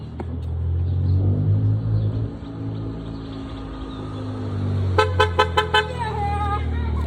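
Passing road traffic at the roadside with a car horn sounding: a low engine rumble, then a rapid string of about five short, loud honks in quick succession, followed by a longer trailing toot.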